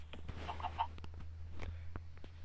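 Faint, scattered clucks from a chicken in a Minecraft-style sky block game, a few soft calls over a steady low hum and quiet background clicks.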